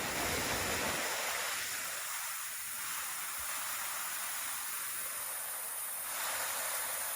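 A small punch-bowl waterfall, Bethongabel Falls in Lamington rainforest, Australia, splashes steadily into a creek pool, a constant close rushing hiss with no voices.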